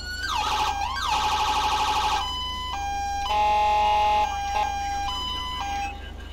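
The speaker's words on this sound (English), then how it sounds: "Siren works." A police car siren in the GTA LSPDFR video game cycles through several tones: rapid yelping wails, then a steady high tone and shifting pulsed patterns, loud and close, with no talk.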